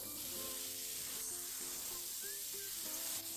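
Spices with chilli and cumin powder sizzling in a frying pan as they are stirred, a constant bright hiss up close with soft scraping and faint tonal clinks throughout.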